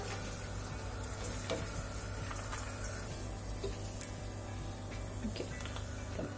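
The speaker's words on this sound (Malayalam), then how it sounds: "ആൽമണ്ട് ഒന്ന് ഫ്രൈ ചെയ്തു" Almonds fry in a pan with oil for an Arabian Majboos garnish, giving a steady, close crackling sizzle that runs throughout, with a few small clinks from stirring.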